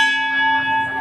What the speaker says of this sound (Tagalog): Ito ang banal na kampana na ginawa mo sa amin para kami ay makameditasyon